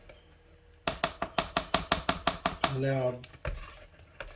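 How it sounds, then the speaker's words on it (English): A thickening fruit fly culture medium is mixed in a container, producing a rapid regular run of about a dozen sharp knocks, followed by a brief sound and then a single spoken word. "And as you mix, you'll see it start thickening up."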